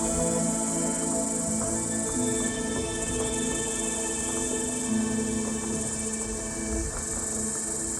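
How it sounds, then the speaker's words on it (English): Cicadas sing in a steady, dense drone from the treetops, a loud continuous buzz holding unbroken through the whole stretch with faint pulsing beneath and no voices. "Whether singing from the treetops or emerging from the soil after years underground, cicadas remind us that nature keeps its own rhythm"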